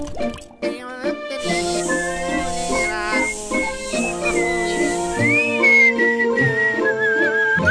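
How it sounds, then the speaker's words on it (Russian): A melodic whistled tune from the Russian animated series Smeshariki runs through the whole stretch over steady instrumental backing music, fairly loud and continuous. "ты же опять свистишь?"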